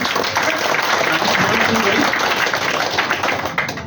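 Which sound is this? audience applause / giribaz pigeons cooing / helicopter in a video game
audience applause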